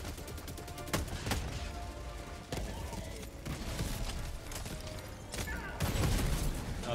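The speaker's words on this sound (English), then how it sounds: "I'm getting them with the railgun" Heavy sci-fi railgun shots crack out in Helldivers 2 amid a dense, constant battle din, with sharp broadband blasts near the one-, two-and-a-half- and six-second marks rising over rumbling background fire.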